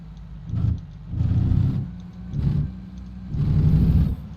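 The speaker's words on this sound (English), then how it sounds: "I don't like the sound of that engine." A low, rough truck engine rumble in the video game American Truck Simulator surges and fades in four uneven swells, loud and close, with no one talking.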